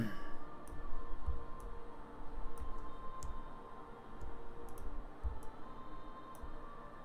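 Key clicks from a brand new computer keyboard, sparse and uneven with a few crisp taps over a steady low hum, close and quiet with no one talking.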